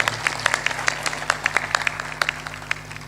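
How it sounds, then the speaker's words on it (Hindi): Audience at a satsang clapping loudly in steady, fairly even bursts of applause, with a low constant hum running underneath. "ये देख, ताली जोर से बजा के सम्मान करो।"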